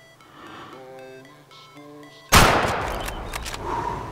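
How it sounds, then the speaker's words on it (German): Rifle shot fired at a springbok while hunting in the video game Way of the Hunter: a sudden loud crack cutting in after soft tonal game-menu beeps, followed by a long fading rumbling echo. "Ah, es war ein guter Schuss."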